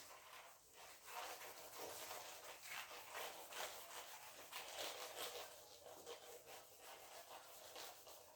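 Writing gets rubbed off a board with a steady, continuous scrubbing and swishing that stays close and fairly even, with no talking.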